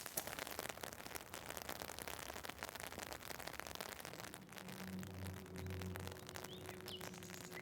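Steady rain patters on an umbrella along the Camino de Santiago, a dense continuous hiss of drops that holds close and even throughout, with a low tonal hum entering partway through.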